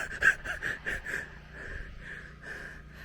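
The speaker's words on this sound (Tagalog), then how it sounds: "Hinihingal na kasi tayo" Heavy, ragged panting from a hiker climbing uphill on a mountain walk near a reservoir, with rapid rhythmic gasps close to the microphone and no speech.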